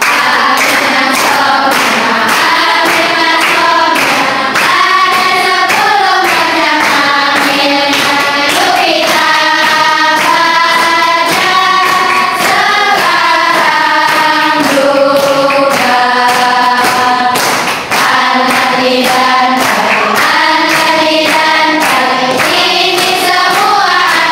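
Rhythmic hand clapping keeps time under loud, continuous group singing in a classroom-style Arabic grammar lesson, the sharp claps repeating steadily throughout.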